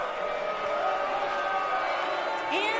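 Wrestling crowd in an arena reacting to the tag team Phantasm's entrance, a steady dense murmur of voices and jeers with a brief whistle or shout rising near the end, under faint background talk.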